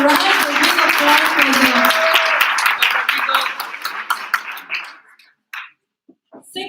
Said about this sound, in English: A big applause